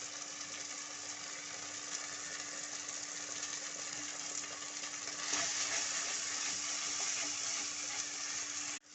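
Prawn curry masala sautéing in a pan over high heat, giving a continuous dense sizzle that holds steady and swells slightly midway, close and loud without any talk.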